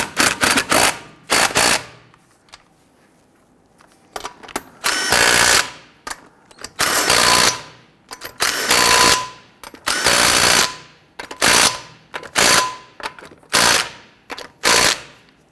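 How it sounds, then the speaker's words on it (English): A pneumatic impact wrench tightens a keyed lug nut on the wheel of a 2006-2012 Toyota RAV4, firing loud, close rattling bursts separated by short pauses across the whole stretch. "we're going to go ahead and tighten that one down first"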